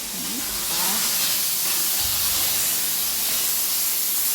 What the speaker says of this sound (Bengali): একটা সিটি দিলেই বন্ধ করে দিতে হয় প্রেশার কুকারটা